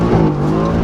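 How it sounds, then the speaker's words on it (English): A deep, loud engine roar from a Brabus-tuned Mercedes-AMG GT S with a 4-litre twin-turbo V8, a brief sustained rumble close by. "It is a 4-litre twin turbocharged V8 engine, been tuned by Brabus"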